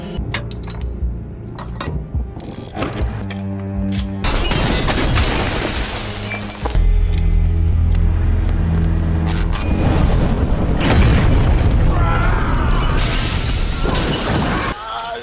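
A grenade explosion bursts out amid a chaotic indoor film action scene, with shattering glass, clinks and heavy booms layered over music.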